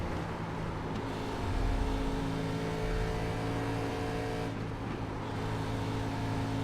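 Race cars on Darlington's oval in the iRacing sim's ARCA Menards Series, a steady engine drone with a rising whoosh as cars pass, moderately loud and without talk.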